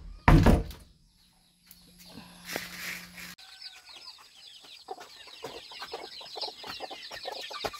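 Farmyard chickens at afternoon feeding time, a loud door thunk first, then a busy stretch of steady clucking and occasional wing flaps at close range, with no talk.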